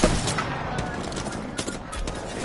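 Rapid R99 submachine gun fire from the shooter game Apex Legends, dense bursty crackle running steadily through the moment with in-game noise and faint chatter mixed underneath.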